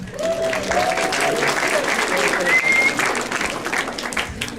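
Steady audience clapping at a student organization meeting for a guest speaker, with a whistle and voices calling out over the applause throughout.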